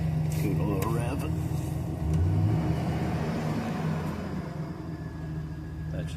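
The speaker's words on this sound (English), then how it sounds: "Give it a little rev." A 2008 GM Sierra/Silverado pickup, worked on for knock sensor and evap codes, idles close by, then gives a short rev that swells and falls back to a steady rumble. People talk over it.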